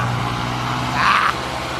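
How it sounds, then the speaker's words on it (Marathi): Tractor engine running nearby during an outdoor driving manoeuvre, a steady low rumble with a short brighter surge partway through before settling back. "ट्रॅक्टर काढतोय ते बघा"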